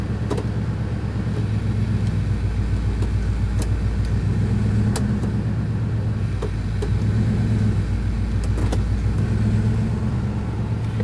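A warm car engine idles steadily with the parking brake and foot brake engaged while the transmission is run through its gears, giving a low continuous rumble with faint periodic clicks.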